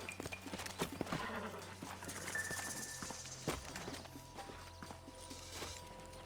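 Horses in the Red Dead Redemption video game, hooves clip-clopping at a walk with an occasional whinny, fairly faint and steady against quiet background ambience.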